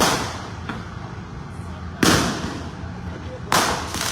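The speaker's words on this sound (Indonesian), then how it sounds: "Bisa dilihat petasan kembali ditembakkan sahabat Kompas.com" Firecrackers go off at a street riot under a flyover, with loud sharp bangs at about two and three and a half seconds standing out over a constant roar of crowd noise.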